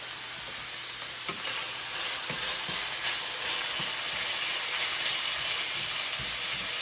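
Onions and garlic brown in a hot pan for a whole grain mustard pan sauce, giving a steady close sizzle with occasional stirring scrapes and clicks throughout.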